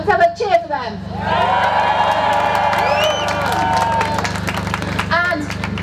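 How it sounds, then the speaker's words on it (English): A crowd at a climate justice protest cheers and whoops for independent journalists, loud sustained cheering after a brief spoken lead-in, with talk resuming as it fades. "Let's have a cheer for them."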